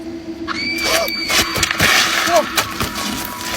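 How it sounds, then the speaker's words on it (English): A sudden, piercing scream from a woman rings out loud and close, with sharp rising squeals over a busy background. "a loud, piercing scream of a woman cut through the air"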